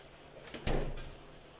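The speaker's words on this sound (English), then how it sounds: "bottom door opens and closes." Bottom door of a Haier 355-litre HRB-4053PKG-P refrigerator with misaligned doors swinging open and shutting, ending in one close, fairly loud thud with a short rattle after it.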